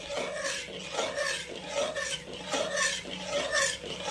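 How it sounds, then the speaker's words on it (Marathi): A spoon scrapes and stirs the suralichi vadi mixture around a pan in steady rhythmic strokes, close and grainy, with no talking. "आणि एकसारखं ढवळायचंय आपल्याला."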